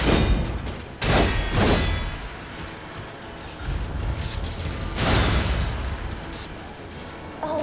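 Heavy bomb blasts from the video game Lies of P boom out in bursts, two close together early and another midway, each followed by rumbling debris and clatter, with faint game ambience between.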